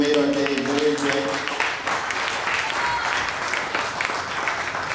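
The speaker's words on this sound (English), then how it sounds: "So let's have a round of applause, everybody, for being here." Wedding guests at a reception break into hearty applause during the speeches, dense clapping that swells after a speaking voice at the start and carries steadily to the end.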